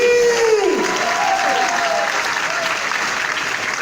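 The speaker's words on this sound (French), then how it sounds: "Applaudissez pour vous!" Audience applause at a gathering, a dense sustained wash of clapping from a crowd, with a voice calling out over it at the start.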